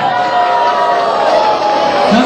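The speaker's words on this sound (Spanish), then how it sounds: "Un aplauso para la número uno." A studio audience cheers and whoops loudly and continuously for over two seconds, a dense crowd roar at a Mexican TV show event, with the faint hint of a voice in the mix.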